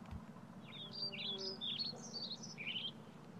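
Small birds chirp in a music dictation game, a run of quick high tweeting notes grouped in short phrases over a steady low hum, fairly faint and with no talking.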